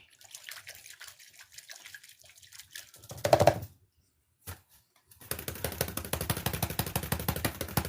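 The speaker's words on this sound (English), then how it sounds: "Clean this brush." An oil painting brush is swished and rinsed in a container of water, with a burst of splashing, a pause, then steady sloshing and trickling that continues close by.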